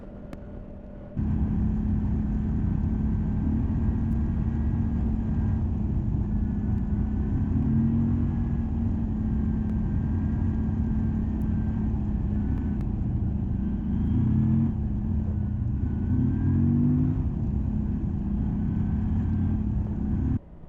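A Moto Guzzi V85TT motorcycle ridden hard on an A road gives a steady, loud engine drone mixed with constant wind rumble, with no talk.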